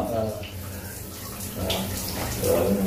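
Water runs and splashes in a hotel bathtub, a steady close gurgle and pour with occasional sloshing, while people talk and laugh nearby.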